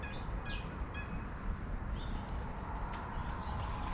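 Several birds chirp and tweet outdoors in short, high calls scattered over a steady background of rushing ambient noise, fairly faint and somewhat distant.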